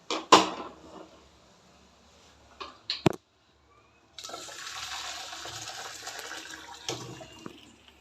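Boiled cauliflower tipped into a strainer: a few clanks of the pot, then a steady rush of water pouring through for several seconds, fairly close and alone.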